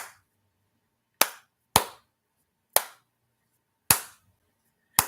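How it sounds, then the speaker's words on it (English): Five sharp hand claps, crisp and isolated, spaced unevenly against near silence with short decays after each. "Clapping on the 1 and the 3."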